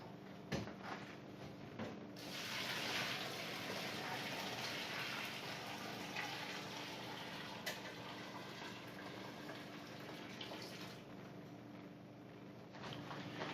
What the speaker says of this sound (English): So we'll go ahead and add in our sparge water.